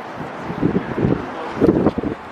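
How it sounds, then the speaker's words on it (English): Gusty wind in Paris buffets the microphone in low rumbling bursts that rise and fall over a couple of seconds. "Very windy."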